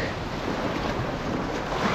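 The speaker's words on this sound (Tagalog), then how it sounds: "grabe yung lakas ng alon, no?" Strong ocean waves wash continuously against an island shore, a loud, dense roar of surf mixed with gusting wind buffeting the microphone, with no voices.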